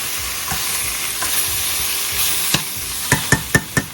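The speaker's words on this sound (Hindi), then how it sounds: "इसको डाल के अच्छे से हिला के ढक के रख देंगे" Brinjal curry with finely chopped tomato being stirred in a pan over steady sizzling, with several sharp spoon scrapes and knocks clustering toward the end, close and fairly loud.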